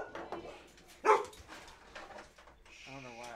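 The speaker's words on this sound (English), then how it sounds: "she barks at you when you don't expect it" A dog lets out a single loud sharp bark mid-clip in a podcast recording room, amid quieter rustling and a person talking nearby.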